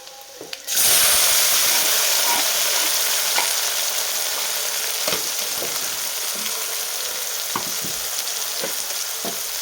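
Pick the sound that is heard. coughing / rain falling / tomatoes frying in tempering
tomatoes frying in tempering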